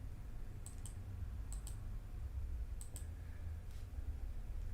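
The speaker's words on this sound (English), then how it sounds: "I hear you clicking, but I don't know what's happening." Sharp mouse or keyboard clicks come in three quick pairs, spaced about a second apart, over a steady low hum during a Mario Kart session.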